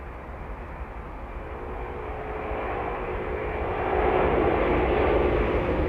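An Airbus airliner at London Heathrow Airport gives off a steady jet engine roar that builds gradually and grows louder toward the end, with no talk over it.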